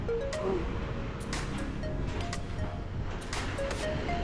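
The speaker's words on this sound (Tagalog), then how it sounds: "Lakas po ng hangin mga kapudi." Strong wind roars steadily across the microphone, with gusty rustling noise and faint scattered tones in the background.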